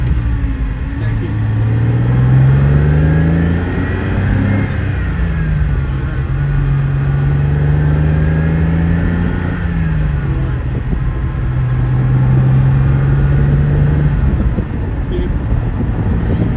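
A 1971 Ferrari 246 Dino GT pulls hard up through the gears on a farm road, its engine note rising and falling with each shift, loud and sustained from start to finish.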